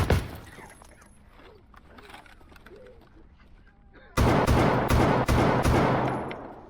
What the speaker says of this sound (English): seeing someone walk down the hall, I open fire, forcing them into cover to attend to their wounds